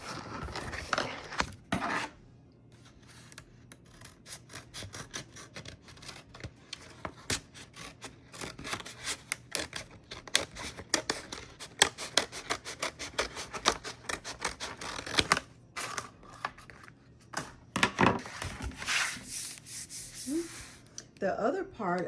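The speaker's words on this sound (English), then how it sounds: "I can cut the rest of this off." An infusible ink sheet is cut down, with a run of close, dry scraping and snipping strokes and soft rustling, irregular bursts that grow busier toward the end, under quiet surroundings.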